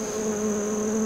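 Honey bees buzz around a young hive opened for a late-summer inspection, giving a steady, close, even drone throughout with no talking.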